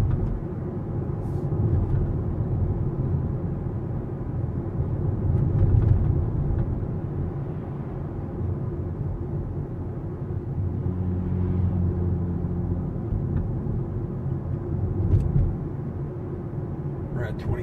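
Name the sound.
Toyota Prius Prime plug-in hybrid coasting on road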